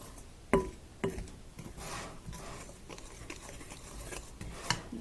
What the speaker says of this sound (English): Scraping it all down from the sides as we go.